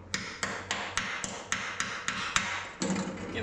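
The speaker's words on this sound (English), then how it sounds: "Easiest way to do that is get a chipping hammer." A metal chipping hammer knocks rust off a boat's galley deck in a steady series of about ten sharp knocks, evenly spaced and close, ending in a grinding scrape.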